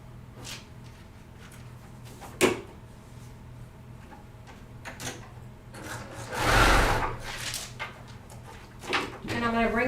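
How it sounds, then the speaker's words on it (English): A sewing machine stitches a seam across a jelly roll fabric coffee cozy in steady mechanical runs, interrupted by sharp clicks and handling of the fabric, with a person talking over parts of it. "So now I'm going to sew from here down to here."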